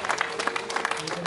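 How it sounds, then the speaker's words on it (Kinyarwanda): Wedding guests clapping and ululating together, a brief burst of dense, close applause with high trilling voices over it. "Amashyi n'impundu babyeyi beza kandi"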